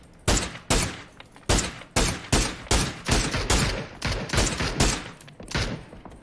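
Repeated gunshots in the battle royale game PUBG, a series of sharp, loud single shots and short bursts with decaying tails, fired at an irregular, quickening pace.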